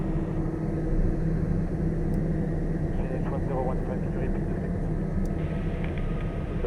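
Steady broadband roar of an airliner cockpit on landing approach with gear down and flaps extended, a continuous loud rumble filling the whole stretch while crew voices talk over it.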